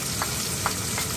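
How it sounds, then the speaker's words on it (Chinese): Chopped chili peppers, scallion and garlic sizzle steadily in hot oil as they are stir-fried in a pan. A few soft clinks of the spatula sound over the continuous frying hiss. "煎炒"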